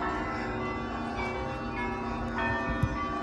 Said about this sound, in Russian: оттуда тоже звук идет колоколов с той стороны и с этой